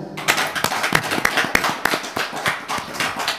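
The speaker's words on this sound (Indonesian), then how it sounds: "Tepuk tangan buat Abah Satu." Audience applause greeting a guest elder at a gathering, a steady patter of many hands clapping with sharp individual claps standing out, moderately close and sustained throughout.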